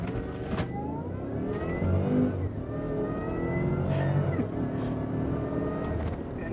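A supercharged Cadillac Escalade accelerates hard from a standstill toward 60 mph, its engine note climbing through rising revs with a gear change partway, heard from inside the cabin with no talking.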